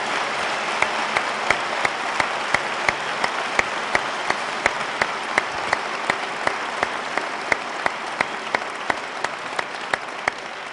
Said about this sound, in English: A round of applause for both gentlemen